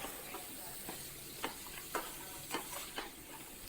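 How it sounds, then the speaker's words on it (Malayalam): Fried chicken pieces tossed with onion and garlic in a pan, a soft low sizzle with a series of light spoon scrapes and taps about every half second, fairly quiet and with no voices. "എന്നിട്ട് ഈ സവാളയും വെളുത്തുള്ളിയും ഈ ചിക്കനൊക്കെ നന്നായിട്ടൊന്ന് യോജിപ്പിച്ചു കൊടുക്കാം."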